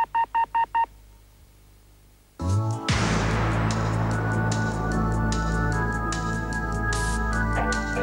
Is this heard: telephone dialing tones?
yes